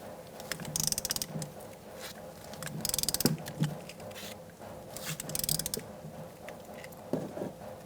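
A torque wrench ratchets in short bursts of quick clicks while tightening a brake hose bolt on a 2002-2006 Honda CR-V, close and fairly quiet, with small mechanical taps between bursts.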